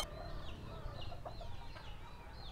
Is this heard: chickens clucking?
yes